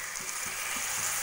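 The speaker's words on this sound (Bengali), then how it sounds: "চাল ডাল দিয়ে ভালো করে কষিয়ে নিয়েছি।" Rice and red lentils sauté in a pan for khichuri, giving a continuous soft sizzle with a few faint scraping stirs.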